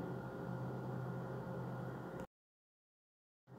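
A mixer grinder whirs steadily as it blends mango pulp in its jar, a loud continuous motor drone that cuts off abruptly partway through, leaving silence before the motor starts up again briefly at the end.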